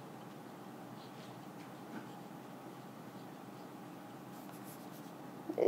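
Fine-nib fountain pen with a converter, filled with red-rose ink, scratches steadily across paper in a soft continuous hiss, close and fairly quiet, with no talking.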